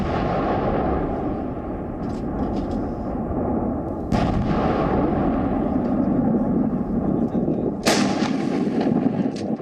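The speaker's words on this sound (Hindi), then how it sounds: "दिन रात चल रही बमबारी के धमाके" Continuous rumbling barrage of artillery fire during the Kargil War, with sharp explosive blasts cutting through, heavy low-frequency booms over a dense background roar.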